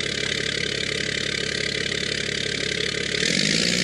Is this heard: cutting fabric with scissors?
no